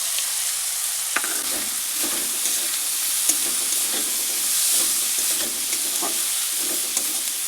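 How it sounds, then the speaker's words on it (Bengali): Chopped onion and green chili sizzling in a wok with fried shrimp, a steady frying hiss broken by occasional stirring clinks and pops, with no talk. "চিংড়ি মাছগুলো ভাজা হয়ে গেছে, এবার আমি দিয়ে দিচ্ছি পেঁয়াজ কুচি আর লঙ্কা কুচি"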